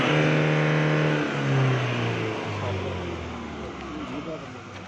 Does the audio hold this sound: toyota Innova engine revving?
yes